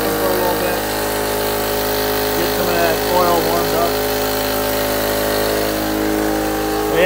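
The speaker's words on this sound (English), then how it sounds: "Yeah, got her going. I'll let her run with the valve on the bottom open for a little bit." A 1985 Camaro Z28 engine runs steadily just after a cold start, a loud continuous drone close by, with people talking over it.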